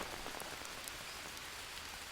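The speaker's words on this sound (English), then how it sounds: "It's because it is raining." Steady rain patters on surfaces in the jungle survival game Green Hell, a dense continuous hiss with scattered droplet taps, fairly quiet and with no voices.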